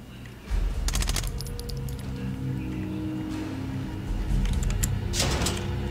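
Gunfire in the Rainbow Six video game: a burst of rapid shots near the start, then sustained low rumbling and a second loud volley near the end, with mechanical clatter between.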